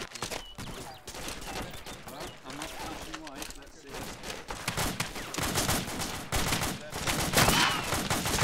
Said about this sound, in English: I can hear him shooting, but I think he's on the other side of the rock.